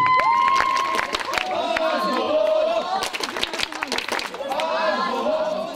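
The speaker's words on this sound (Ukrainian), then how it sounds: "Аплодисменты, друзья." A festival crowd applauds a young firefighters' team from Vinnytsia district, with scattered sharp claps and cheering mixed with voices and whistle-like tones throughout.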